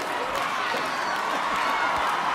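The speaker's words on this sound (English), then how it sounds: "And the home crowd, the homecoming crowd loves it." Homecoming crowd at a high school football game cheering after Glacier Peak beats the Arlington Eagles 10-7, a continuous broad roar of many voices with scattered clapping, steady and fairly loud throughout.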